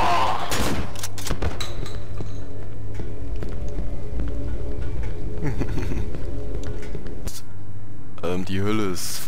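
Rapid gunshots crack out in bursts in the Cry of Fear video game, loud and close, with a low hum underneath and a player talking between shots.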